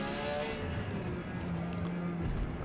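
A Porsche 956 prototype race car in Forza Motorsport roars steadily at high revs at Grand Oak Raceway, its engine note shifting as it brakes hard for a slow corner, loud and continuous throughout.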